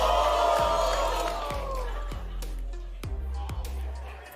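A crowd at a VALORANT Champions draw show in Seoul cheers and shouts, a broad, loud swell that gradually eases off beneath a low hum and several sharp thumps.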